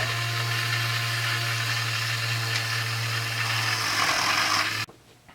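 A Dremel rotary tool grinds steadily on Husqvarna 394XP chainsaw parts during a rebuild, a close, continuous high-pitched whine with a low hum beneath that holds for nearly five seconds and then cuts off abruptly.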